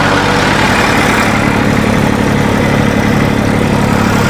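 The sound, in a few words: Massey Ferguson 241 and New Holland tractor engines running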